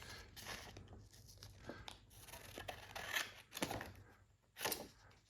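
Quiet, crisp snips of scissors cutting through 20-pound printer paper, several short cuts in an uneven rhythm with faint rustling between them.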